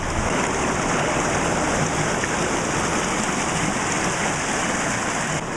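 River water rushes steadily through the Oxford River in Jamaica, a loud, continuous broadband wash from start to finish. Children's play is not distinguishable over the water.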